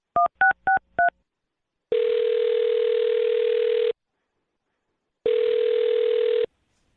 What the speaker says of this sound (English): I'll dial her phone number right now